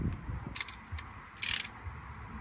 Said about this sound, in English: now I can carry on ratcheting back the brake piston